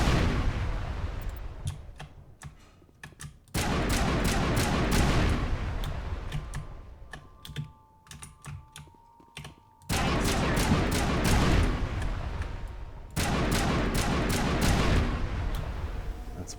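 Repeated bursts of rapid gunfire in Mass Effect as power conduits are shot down, loud and close, coming in long dense volleys broken by short quieter gaps.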